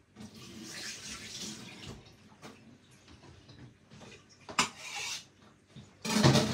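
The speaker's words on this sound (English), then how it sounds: "it's important for you to wash your ginger very good, guys" Fresh ginger washed under running tap water at a kitchen sink, a steady close hiss of flowing water with brief splashes and handling knocks, louder spurts near the end.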